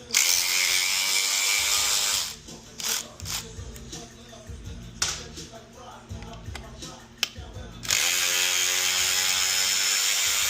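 A pneumatic impact wrench rattles in short bursts with pauses between, loud and close, removing tight Loctite-coated bolts on an S&S Stinger air cleaner install, followed by a steady high whine.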